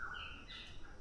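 Birds in a forest give faint, thin whistled chirps, a couple of overlapping calls at some distance over steady outdoor hiss.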